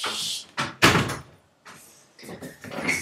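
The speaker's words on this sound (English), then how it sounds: "I'm gonna close the door" A door being closed nearby, a few short thumps and a latch-like knock separated by quiet gaps, fairly soft overall.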